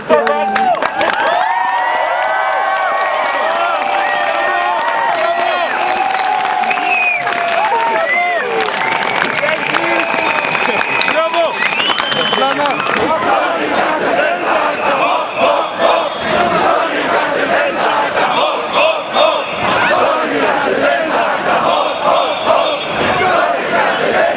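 A large crowd at a street protest against ACTA in Zielona Góra shouts and chants loudly and continuously, with rhythmic voices, cheers and bursts of clapping.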